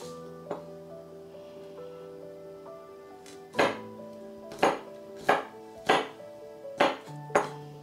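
A knife slices garlic on a cutting board, about seven crisp, separate knocks against the wood at an unhurried pace, each followed by a faint ring in a quiet kitchen.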